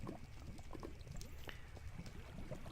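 Continuous rushing and pouring of a Minecraft waterfall, a steady splashing wash of water that runs unbroken throughout at moderate, even loudness, with no talking over it.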